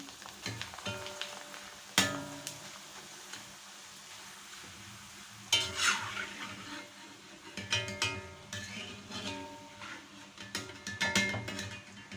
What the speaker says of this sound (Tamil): அந்த புளி குழம்புக்கு இந்த அப்பளத்தை வறுத்துக்கலாம்